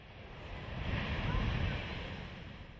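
Stormy sea waves surge and crash against a rocky coastline with a wave-carved stone arch in the Caribbean, a steady roaring wash swelling in the middle with wind noise over it.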